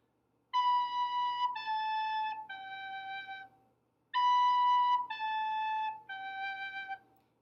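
A recorder plays Hot Cross Buns, a simple three-note descending phrase, clear and close, then repeats it after a short pause.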